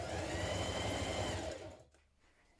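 A domestic sewing machine runs steadily, stitching a sweatshirt sleeve seam, a fast even whirring drone close by for about a second and a half, then slowing and stopping into near silence with a small click at the end.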